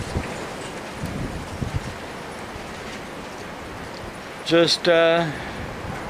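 Strong wind gusts around a porch, a steady broadband roar with rustling that persists throughout, while a voice briefly speaks near the end.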